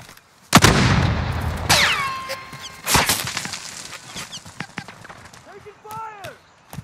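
Gunfire erupts in the shooter Call of Duty Warzone: a loud sharp report followed by scattered nearby shots and impacts, with clicks, whooshes and interface tones in between.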